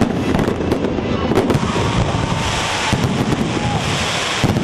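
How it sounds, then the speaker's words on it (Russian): Dozens of fireworks salvos burst at a celebration marking the reopening of the Murom palace of culture, a dense, continuous crackling barrage with sharper pops scattered throughout, heard from outdoors with some wind. "Праздник завершился фейерверком."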